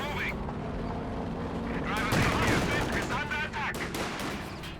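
Ostwind anti-aircraft tank firing in Company of Heroes 2, rapid bursts of autocannon gunfire with crackling impacts over a battle din, fairly loud, with someone talking over it.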